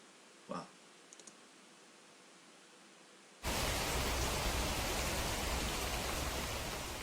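Steady, loud rain begins abruptly after a faint click and a few soft taps, then pours on evenly as a dense hiss, from the anime Neon Genesis Evangelion.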